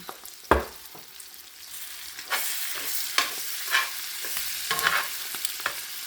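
Breakfast fries in a big iron pan with pepper and chipotle, sizzling steadily under a series of sharp spatula scrapes and clanks, one loud knock at the start and several more after.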